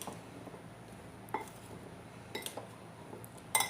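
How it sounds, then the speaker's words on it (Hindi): Chopped onion, mint and coriander are mixed in a bowl with a spoon. Soft scraping comes through with a few light clinks of utensil against the dish, quiet and close. "ये भी हम इसके अंदर ऐड कर लेंगे और अच्छी तरह से इसको मिक्स करेंगे।"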